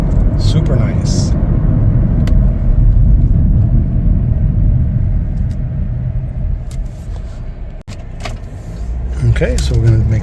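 Interior road rumble and low engine hum of a 2024 Chevrolet Blazer 2LT cruising smoothly, steady and close, with a brief click and some rustling, and a person talking during the drive.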